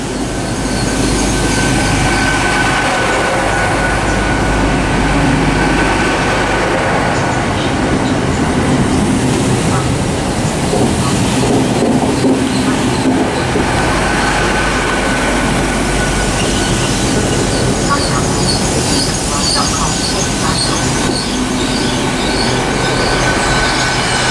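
A Class 800 train, unit 800.315, passes through Bristol Parkway station on the Great Western Main Line. A loud, continuous rumble of wheels and traction lasts throughout, with metallic wheel squeal and clattering over the rails.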